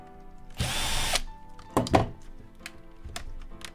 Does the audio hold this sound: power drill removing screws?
yes